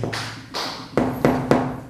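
Floor tiles in a bathroom being tiled are struck by a small mallet, giving five crisp, close taps at an uneven rhythm, each with a short ringing decay, and no talking.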